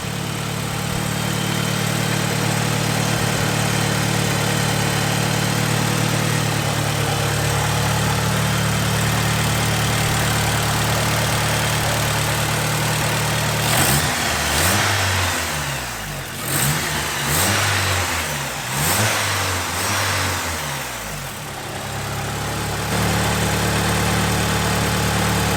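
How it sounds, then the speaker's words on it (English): A car with a junkyard replacement engine idling in neutral, a steady low running drone throughout, with a stretch in the middle where the engine note rises and wavers as it is revved before settling back to idle. "Of course, the car's on, it's in neutral."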